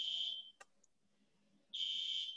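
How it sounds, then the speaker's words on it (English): Building fire alarm, a loud piercing electronic tone that cuts off, leaves a short quiet gap with a click, then resumes, heard from a distance. "That's the fire alarm."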